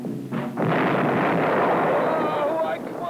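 Turkish artillery cannon fire in a 1950 documentary about Arabia, a heavy booming blast that rolls out into a long, noisy rumble, with a narrator talking over it.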